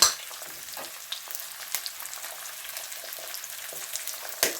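Eggs and squid frying in a pan, a steady crackling sizzle with soft stirring scrapes and a few sharper pops, heard alone without talk.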